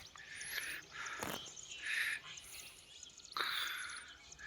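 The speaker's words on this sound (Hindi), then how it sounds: "चिड़ियों की चहकने की आवाज़ सुनो" Small birds chirping in the Himalayan hills of Dwarahat, Uttarakhand, with several bright, high calls and short trills repeating in bursts over a quiet outdoor background.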